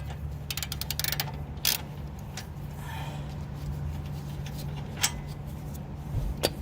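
A ratchet wrench works at a damaged, thread-stripped nut on a Nissan Altima, producing bursts of rapid close clicking with pauses and a few sharper knocks over a low steady hum, with no voices.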